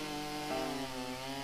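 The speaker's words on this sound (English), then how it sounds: "He went back and he grabbed that chainsaw like nothing." A chainsaw cutting through a tree in Kentucky, a steady buzzing drone with a slight shift in pitch partway through as the blade bites, continuous and fairly close.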